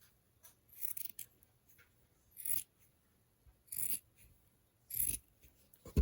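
Scissors cut material for a no-sew face mask in four separate crisp strokes, evenly spaced and close by, with quiet pauses between cuts and no voices.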